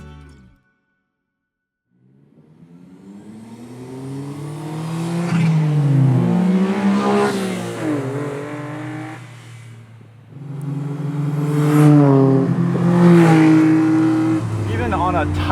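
Small sporty K cars, a Suzuki Cappuccino and a Honda Beat, are driven hard on a tight, twisty road. Their high-revving engines climb loud through the gears, then drop off and surge again as the cars pass close.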